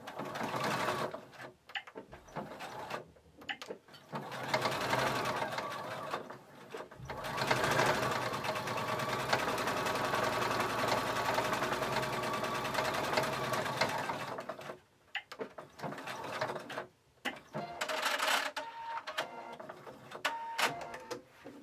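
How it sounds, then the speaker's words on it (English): Sewing machine top stitching across the edge of a reusable face mask with a filter pocket, running in steady bursts with brief pauses between runs, close and fairly loud, with no talking. "Go ahead and top stitch across the edge."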